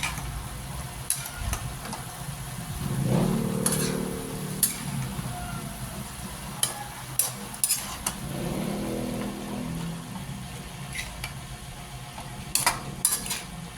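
Ground pork with tomato paste is stirred in a sizzling pan, giving a steady fry hiss with scraping spoon strokes and sharp clinks against the pan, fairly close.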